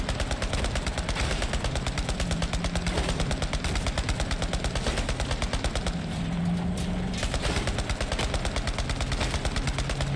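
Rapid automatic gunfire from enemies in the video game Borderlands 3, a dense, relentless stream of shots that keeps the same pace throughout, loud and close with a low mechanical hum beneath it.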